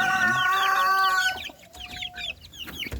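Hens, including a claret hen, and young chicks cluck and cheep close by in a backyard coop, with a loud burst of clucking followed by softer scattered peeps.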